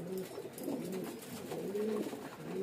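A pigeon coos close by in low, rolling, throaty calls that repeat over a faint background hiss.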